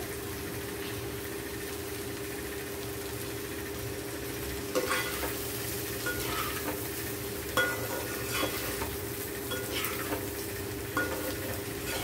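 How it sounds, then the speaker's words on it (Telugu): Big prawns and okra fry in masala in a pan, a low steady sizzle with occasional scraping stirs of a spoon, close and unhurried, no one talking. "ఇట్లా బాగా ఫ్రై చేసుకోవాలండి"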